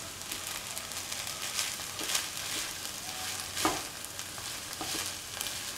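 Okra fried rice being mixed in a pan over a low flame, with a steady soft sizzle and intermittent scraping, stirring strokes, close but fairly quiet.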